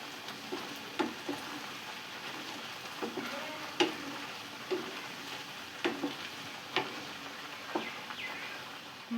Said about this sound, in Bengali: আর বেরেস্তা ভাজা হচ্ছে, বেরেস্তা দিয়ে দেওয়া হবে।